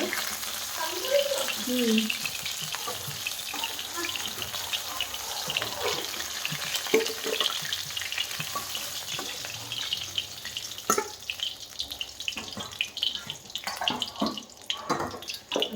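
Lalu fish frying in a pan in a home kitchen, a continuous hissing sizzle with occasional sharper crackles and pops, close by, with faint bits of background voice.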